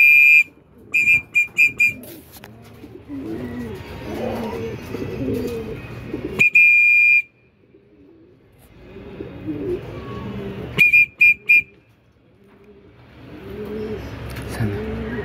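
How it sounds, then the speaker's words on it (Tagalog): Racing pigeons and other birds on a training toss in Gumaca, Quezon, cooing and calling in repeated low, rounded phrases, with bursts of sharp high whistles and chirps breaking in at intervals. "Ang daming ibon."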